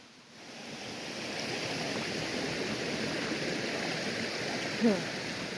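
Steady rushing water from a stream or waterfall along a rocky hiking trail near Kreuth, a continuous broadband wash heard close up with a brief louder splash or bump near the end.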